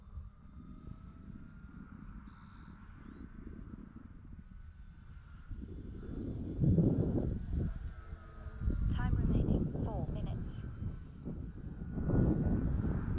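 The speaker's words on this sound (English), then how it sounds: "she's running on 4-cell right now. So I'm running along about less than half throttle." A yellow E-flite T-28 Trojan electric RC airplane on a 4-cell battery flies at under half throttle, its motor a steady drone that swells as it passes nearer, with a person talking over it.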